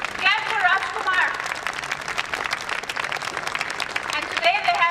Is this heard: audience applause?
yes